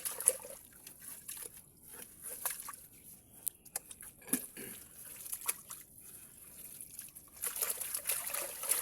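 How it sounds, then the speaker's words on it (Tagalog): Water trickles and drips close by from below inside a well, a soft, irregular running sound with small splashes and occasional louder drops. "Ito, galing sa ilalim yung tubig."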